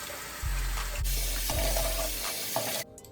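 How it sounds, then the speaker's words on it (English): Tap water runs steadily while a brush guard is rinsed under it at a bathroom sink. The close, continuous splashing has a few soft knocks and cuts off abruptly near the end. "So now I'm going to rinse off my brush guard."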